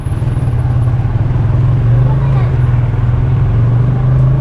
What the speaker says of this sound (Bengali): এখন মালগাড়ি যাচ্ছে